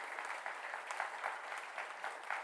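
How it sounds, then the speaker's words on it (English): Steady applause from an audience welcoming a Dean at a formal function, a continuous dense patter of many hands clapping without a break, moderately loud and even throughout. "please give her a big round of applause"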